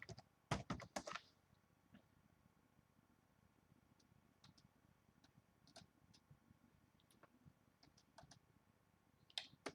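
Computer keyboard typing, a quick loud burst of clattering keystrokes at the start, then scattered soft, sparse key taps through a quiet room, with a final cluster of clicks at the end.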